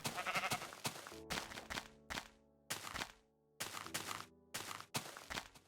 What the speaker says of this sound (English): Brown sheep.